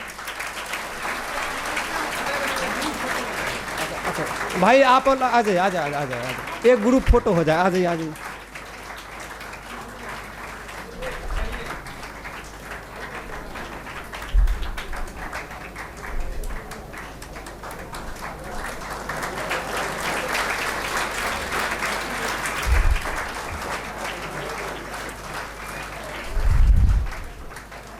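Seminar audience in Begusarai claps at length, a dense roar of hands that swells, eases in the middle and builds again, while someone speaks over it and a few louder thumps stand out.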